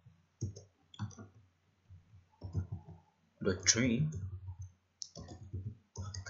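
Keyboard keys click in short bursts on a misbehaving computer keyboard while someone talks over the typing.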